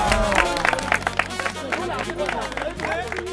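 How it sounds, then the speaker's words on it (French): An audience claps for a player at a house finale, a short burst of scattered applause under a lively crowd with voices and a music bed running beneath. "On l'applaudit."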